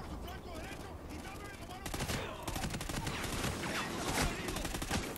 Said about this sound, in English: I'll lay down some suppressive fire if you stop moving